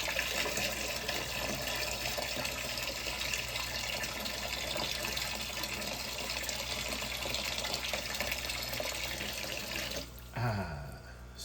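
Water pours steadily while a container is topped off, a continuous loud rush that holds unbroken for about ten seconds before cutting off abruptly, followed by a brief shift in tone.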